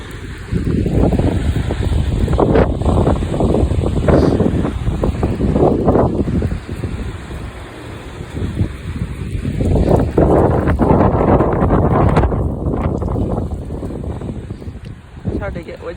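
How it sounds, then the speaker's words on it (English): Strong gusty wind in Utah roaring and buffeting the microphone in loud, surging waves that rise and fall over the whole stretch, with a person speaking intermittently beneath the rumble. "There's another gust coming."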